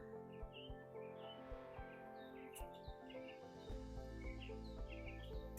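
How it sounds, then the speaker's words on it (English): Small birds chirp and tweet outdoors in the southern US, scattered high calls repeating throughout, fairly faint against a steady low background hum. "I love hearing these little birdies chirp in the background."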